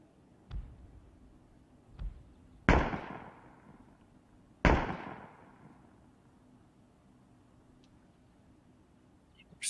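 Gunfire from the online shooter Ring of Elysium: four distant, muffled shots spaced irregularly across a quiet stretch, two of them louder with a trailing echo.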